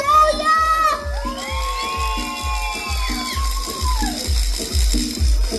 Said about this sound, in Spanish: Ahí está, fuerte el aplauso.